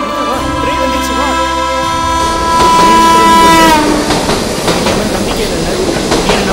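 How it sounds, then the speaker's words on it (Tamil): A train rolls in with a long horn blast and steady rail rumble, clattering louder as it nears. "ட்ரெயின் வந்துச்சு வா."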